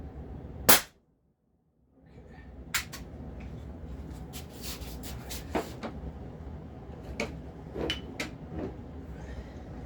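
An Umarex HDR50 Z-Ram Tech9 air pistol fires a single sharp, loud shot, followed by a brief silence and then a background of faint clicks and handling knocks.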